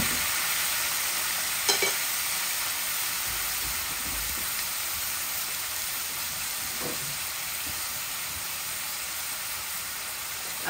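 Mutton frying with onions in a pan, a steady close sizzle throughout with a couple of brief stirring clinks, no talk.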